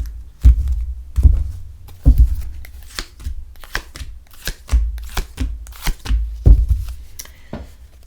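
A tarot deck is cut and shuffled close by, a series of irregular riffling bursts and soft card thumps repeating across the clip.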